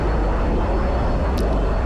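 Steady, loud roar of a jet aircraft engine flying in Battlefield 2, a continuous broadband rush that holds even throughout with no voices.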